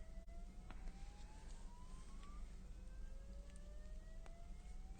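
A building fire alarm sounds as a faint, thin tone that slowly rises, then repeats, under a steady low background hum with no voices.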